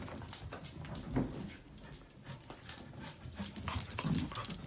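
Corgi husky mix puppy barks and whimpers in short bursts, close and fairly loud, over scuffling movement with no talk.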